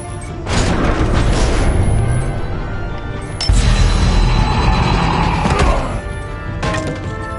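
A missile explosion in a Batman video game: loud, heavy booming crashes with a sustained roar, a second big blast hitting midway and rumbling on before fading.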